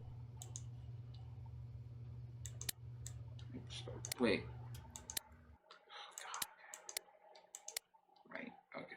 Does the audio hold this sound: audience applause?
no